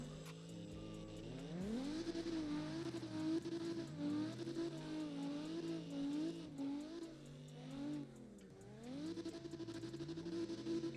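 Drifting video-game car with a harsh, unpleasant engine note revving up and down repeatedly, climbing then settling through several swells, with faint tire screech, continuous and close.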